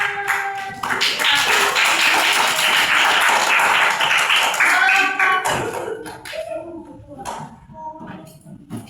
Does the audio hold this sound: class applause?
yes